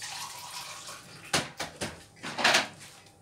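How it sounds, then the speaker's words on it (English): Water poured from a tap into a pan of curry sauce for baked fish, with a few bursts of splashing and running water after a quiet stretch, close and moderately loud. "Add some more water to it."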